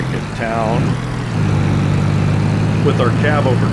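A cab-over truck in Farming Simulator 22 drones steadily at close range, its engine note stepping up partway through as it drives, with someone talking over it.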